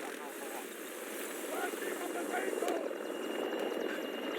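Helicopter rotor thrum in Battlefield 2042, a steady whirring drone that grows slightly louder, layered with gunfire and game sounds.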